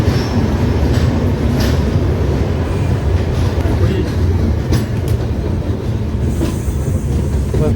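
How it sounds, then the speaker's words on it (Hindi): Jhelum Express, an empty train pulling out of Bina Junction at night, rumbling steadily and loud with continuous wheel and carriage noise, occasional higher rattles and faint squeals riding over the low roar. "अब ट्रेन खाली जा रही है।"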